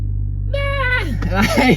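A turbocharged car engine revs up with a rising turbo-spool whine sweeping upward, loud and close, with a steady low rumble underneath.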